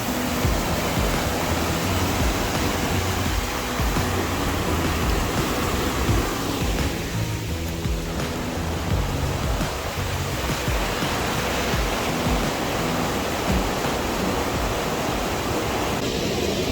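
A steady, loud rush of the Poplar River flowing nearby continues without a break, with no voices over it.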